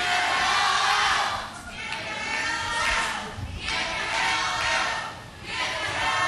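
A wrestling crowd chants "get the hell out" in rhythmic waves at the HWA Arena, loud and reverberant, rising and falling in repeated surges.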